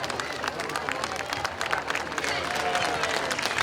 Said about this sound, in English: All these Shaler residents are cheering for the police force.